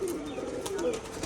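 A male Rajshahi pigeon gives a short, soft coo, close and quiet, lasting barely over a second.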